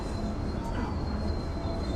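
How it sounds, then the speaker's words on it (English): A train stopping on the tracks: a loud, continuous low rumble of rail cars with faint wheel squeal above, steady over the brief stretch. "the train needs to make an unexpected stop"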